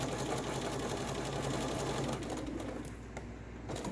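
A sewing machine stitching a quarter-inch seam through a quilt block runs steadily and close up with a continuous mechanical whir, easing slightly near the end.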